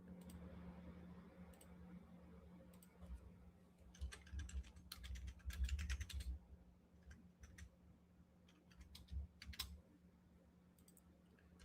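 Computer mouse clicks and keyboard typing sound in quick, irregular bursts, close and fairly faint over a low steady hum, with no talking.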